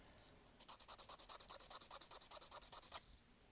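A nail file scrapes a fingernail in about twenty quick, even back-and-forth strokes lasting roughly two and a half seconds, soft and close.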